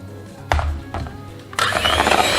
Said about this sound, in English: It is a lot easier with a hand mixer than a hand whisk